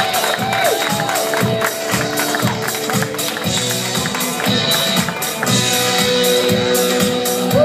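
A comedy club crowd cheers and applauds a stand-up comedian's introduction, steady clapping and whoops filling the room over loud walk-on music with a thumping beat.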